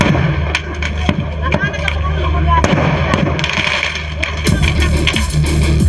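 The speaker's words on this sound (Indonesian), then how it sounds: "Ledakan kembang api hingga petasan dari sebuah rumah sekaligus toko grosir yang terbakar" Repeated sharp bangs and crackling pops of fireworks and firecrackers exploding in a burning house and wholesale shop, a busy, noisy outdoor scene with voices in the background.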